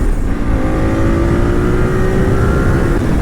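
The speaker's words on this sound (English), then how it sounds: "I've heard these things love to rev, and the way it sounds when you rev it out is just awesome" A 2010 Ducati 848 motorcycle engine revs loud and close, a steady high-pitched drone with rising harmonics that climb smoothly as it pulls through the throttle, no talk over it.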